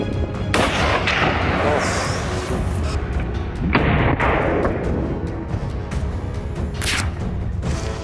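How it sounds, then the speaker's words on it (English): Rifles fire at wild boars during a hunt with dogs, several sharp, loud shots cracking out at irregular intervals and echoing over open ground, with faint voices in the background. "We opened fire, but the distance worked in the boars' favor"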